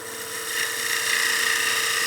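Wood lathe making a peel cut on a German smoker workpiece, a steady close whine and scraping hiss of the tool against spinning wood, continuous and fairly loud with no talk.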